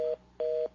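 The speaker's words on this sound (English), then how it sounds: "I hear a dial tone there." Telephone tone on a call-in line to a UFO radio show, two short steady beeps separated by a brief gap, thin and fairly quiet.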